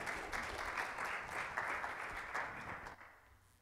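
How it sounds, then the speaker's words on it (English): A church congregation claps hands in praise during a Sunday worship service: a fairly soft, sustained wash of clapping that stops abruptly near the end. "let's give the Lord a hand clap of praise as he comes"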